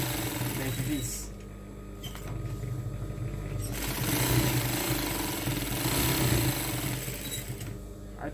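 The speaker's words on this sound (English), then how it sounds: "You have to sew it round or all over" A sewing machine stitches fabric with a rapid mechanical whirr and clatter. It comes close and fairly loud in several bursts with short pauses, and a person talks over it at times.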